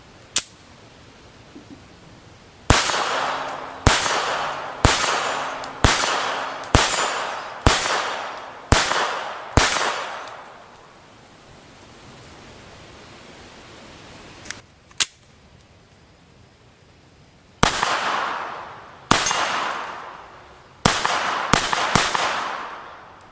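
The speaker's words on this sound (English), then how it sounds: "let's shoot it a little bit" A Mauser 1914 pistol in .32 ACP is fired in two strings of sharp, loud shots, about eight evenly spaced, then a pause with a lone report and a faster group of shots.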